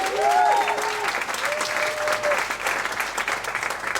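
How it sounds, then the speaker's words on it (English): Audience at a PechaKucha night at betelNut in Ubud, Bali applauding the venue team, loud close steady clapping with some cheering voices and whistle-like tones early on. "So please give a big applause to betelNut, to Tara, Odette, and betelNut team."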